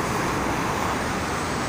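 Heavy holiday traffic crawls along the Jakarta-Cikampek toll road toward Karawang, a dense, steady roar of cars, buses and trucks filling the air without a break.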